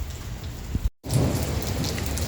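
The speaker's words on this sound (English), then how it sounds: "Now it's just lightning, thunder, and normal rain." A thunderstorm in Phoenix, Arizona, brings steady, close rain pattering on surfaces under a deep rolling rumble of thunder. The sound cuts out briefly near the middle, then the downpour resumes strongly.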